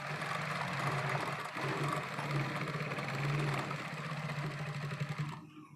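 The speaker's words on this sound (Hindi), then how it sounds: "इस तरीके से मैं यहीं से सिलाई लगाना शुरू कर रही हूँ, कट से ही।" A sewing machine stitches a collar onto dress fabric, starting right at the cut, with a steady continuous motor whir throughout that stops abruptly near the end.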